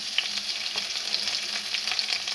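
Onion frying with garlic in a pan, a dense continuous hiss and crackle with small pops and light spatula scrapes, close and steady with no talking.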